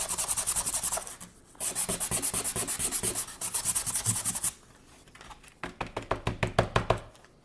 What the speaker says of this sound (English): So first I'm going to sand it a little bit.